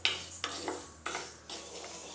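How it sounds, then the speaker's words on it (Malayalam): Urad dal roasted and stirred in a pan over a medium flame: soft scraping strokes of a spoon through dry lentils, a few distinct sweeps with a faint sizzle, quiet and close. "കൈയെടുക്കാതെ തന്നെ നമ്മളൊന്ന് ഇളക്കി കൊടുത്തുകൊണ്ടേ ഇരിക്കണം."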